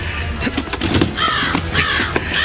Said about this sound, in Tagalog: Dumabo yung uwak sa sanga ng puno sa labas ng bintana